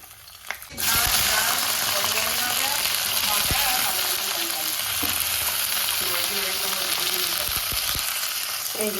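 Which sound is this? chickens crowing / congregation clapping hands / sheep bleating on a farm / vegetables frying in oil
vegetables frying in oil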